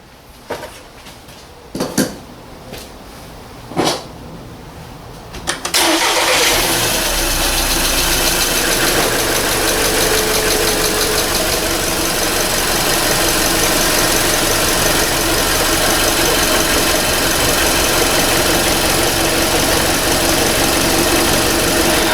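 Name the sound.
VW Passat engine starting and idling, shaking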